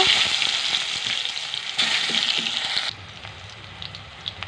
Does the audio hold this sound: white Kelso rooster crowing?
no